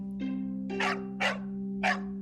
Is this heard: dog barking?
yes